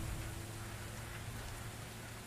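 Rain falling in The Invisible Hours, a steady, faint hiss of rainfall with a low hum beneath, continuous and without voices.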